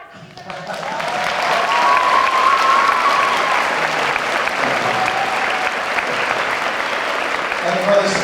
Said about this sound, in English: I think we all need to give him a huge applause.